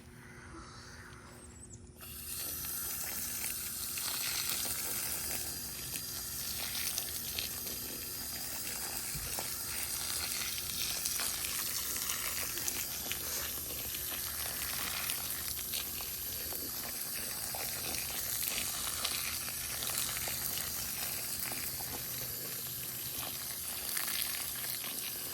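Water pours steadily onto a newly planted tree set in heavy clay soil in Texas, a continuous close rushing and splashing that runs unbroken for about 25 seconds.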